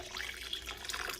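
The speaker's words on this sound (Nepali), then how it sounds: "मैले चिसो पानी हालिसकेँ" Cold water poured into a pot of curdled milk while making churpi, a steady, soft splashing and trickling stream heard close and alone.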